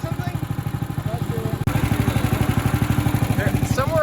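A sawmill saw's engine runs at a steady, even chugging idle close by, with a short break partway through.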